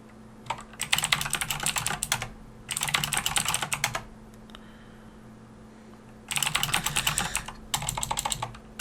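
Fast typing on a computer keyboard, close and crisp, in four bursts of rapid key clatter separated by short pauses.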